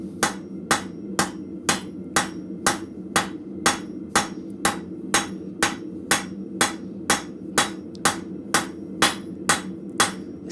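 Blacksmith striking hot steel on an anvil with a cross peen hammer while spreading a shelf bracket, a steady run of about twenty sharp, ringing blows at an even brisk rhythm, close and loud in a forge shop.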